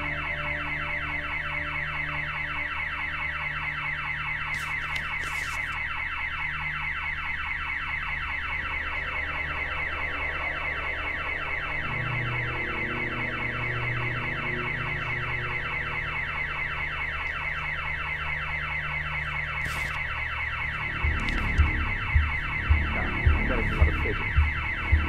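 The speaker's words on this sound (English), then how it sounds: "Been an alarm set off." A continuous alarm rings steadily through the whole stretch in the video game The Occupation, loud and unbroken, with a few low thuds near the end.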